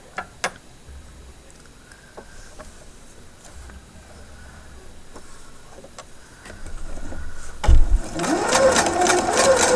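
Sewing machine stitching an exposed zipper, a steady mechanical run of needle clatter with sharp clicks early on, growing louder and busier toward the end.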